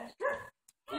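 A dog at an animal shelter gives a short close bark and a whimpering yelp, followed by a brief pause and then another bark.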